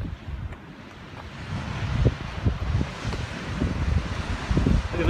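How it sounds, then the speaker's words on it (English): Ocean waves break below a cliffside beach in Portugal, heard as a rolling, distant roar under strong gusts of wind buffeting the microphone, with no voices. "Look at those waves."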